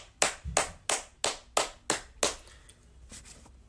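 Seven or eight sharp, evenly spaced hand claps from a single person, a slow deliberate rhythm that trails off at the end, close and alone with no voices.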